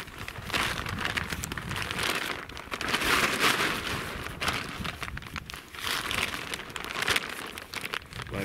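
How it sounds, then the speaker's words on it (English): A silver tarp is folded back and forth like an accordion, giving continuous close crinkling and crackling of plastic sheet with brief surges and no voices. "So I'm just folding this"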